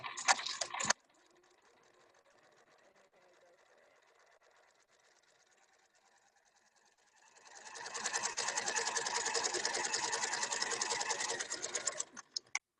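A sewing machine hums quietly at first, then runs fast and loud in a steady rapid stitching rhythm for several seconds before stopping.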